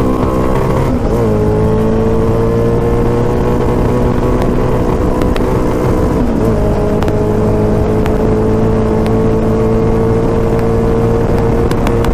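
A 650cc shifter kart engine screams at full throttle, close and very loud, its pitch climbing steadily, then dropping briefly at a gear change before rising again through the next gear, with no talking over it.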